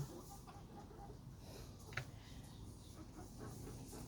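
Backyard hens raised at a home in Bang Pahan, Ayutthaya, cluck faintly amid steady background noise, with one brief sharper call in the middle.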